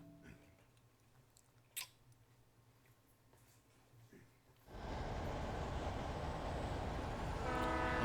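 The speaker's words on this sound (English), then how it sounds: "that light was a train." In Alan Wake Remastered, a train rumbles past loudly and steadily after a quiet stretch broken by a single sharp thud, with a horn-like tone riding over the roar.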